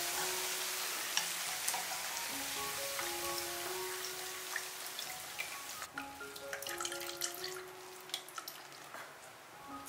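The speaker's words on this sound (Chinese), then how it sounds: "炸了大概10分钟，把这些香菜呢炸到金黄就捞出来" Coriander frying in hot oil in a wok for Chaoshan-style chili sauce, a steady crackling sizzle with dense popping bubbles, close and continuous with no talk.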